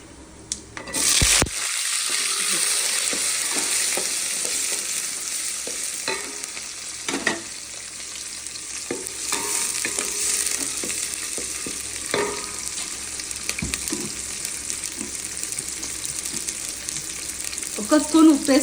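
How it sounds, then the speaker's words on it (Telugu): Onions fry for rasam in a hot pan, a loud continuous sizzle with occasional stirring scrapes, and a brief splash of water near the start. The frying holds steady and close throughout, with no one speaking. "తర్వాత అండి ఆనియన్స్ వేస్తున్నా."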